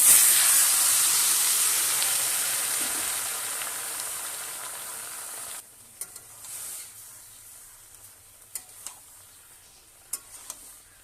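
Boiled vegetables hit hot oil with dried red chilli, bay leaf and five-spice in a kadai, a loud hissing sizzle that fades gradually and then drops away, leaving soft stirring scrapes and clinks.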